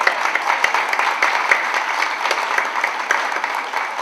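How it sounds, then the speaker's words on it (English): An audience claps for a school board president at a Mexican heritage celebration in Stockton, with a steady wash of applause and a few sharper individual claps standing out, loud and sustained. "How about a round of applause?"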